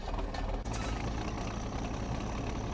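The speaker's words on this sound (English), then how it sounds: "she's a loud tractor. But I like the sound." A loud tractor engine in the video game Farming Simulator 17, a continuous low diesel rumble idling and running steadily, with a brief hiss-like burst near the start.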